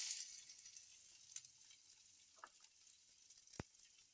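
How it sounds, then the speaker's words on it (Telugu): Chopped onion and green chillies frying in hot oil for an omelette, a steady soft sizzle with high hiss throughout and a few faint crackles and a sharp pop near the end. "ఆయిల్లో ఇప్పుడు ఈ ఆనియన్, పచ్చిమిర్చి వేసుకుందామండి."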